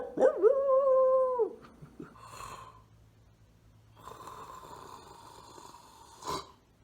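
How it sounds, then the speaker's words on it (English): A neighbour's dog is woken, letting out a loud whimpering yip with rising and falling whines, followed by quieter snuffling and faint rustling sounds nearby. "Waking the beast up, the dog next door."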